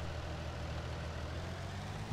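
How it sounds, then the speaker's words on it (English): A Ford tractor engine in Farming Simulator 19 runs at a steady low idle, a continuous deep rumble at even loudness throughout with no talk over it. "Ford tractor. Only one on console."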